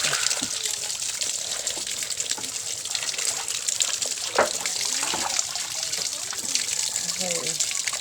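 Shower water runs steadily while someone bathes, a continuous hissing spray with occasional splashes and a few faint voices in the background.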